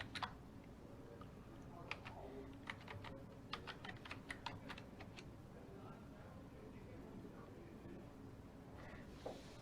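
Password typed on a computer keyboard, a quick burst of light clicking keystrokes in the first half, then fading to faint room noise, close and soft.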